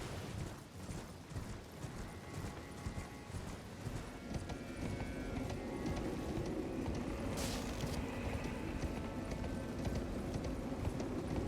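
Rapid, driving hoofbeats of a galloping horse in the video game Elden Ring, loud and continuous over a dense rumble of game ambience, with no talking.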